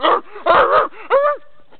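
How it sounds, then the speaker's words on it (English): A chihuahua lets out three quick, high-pitched yipping barks, close and loud, with short gaps between them and a faint whimper trailing off at the end. "it's like a retarded ass chihuahua"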